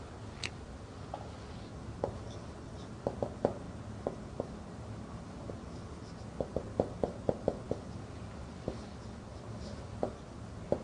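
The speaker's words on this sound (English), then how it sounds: "Okay, I will write down." Chalk or marker on a board during an Arabic grammar lesson, faint scattered tapping and scratching strokes, some in quick clusters, over a steady room hiss.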